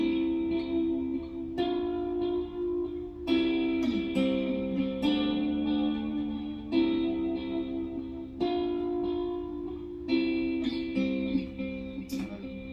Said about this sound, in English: And I have an eighth note delay on there just to keep some motion going.